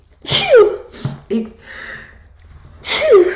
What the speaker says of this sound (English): 3 sneezes for confirmation.